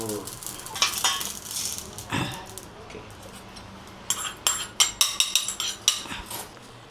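Poppy seeds fry in a hot pan with a crackling sizzle, joined by a rapid run of sharp metallic taps and scrapes from a utensil striking the pan.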